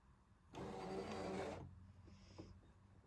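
A Scan N Cut machine scans a sticker sheet with a steady mechanical whir that runs for about a second and then stops, followed by a few faint clicks and a brief high whine.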